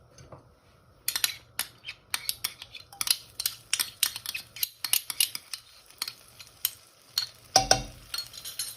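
Garlic paste fries in oil and sesame oil in a pan over high flame for chow mein, with a soft sizzle beneath frequent sharp clicks and scrapes of a spatula against the pan.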